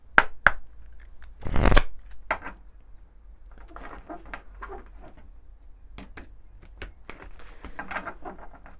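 Oracle cards handled and shuffled at close range, with a loud riffle burst near the start followed by scattered soft slides, taps and card flicks throughout, no voices.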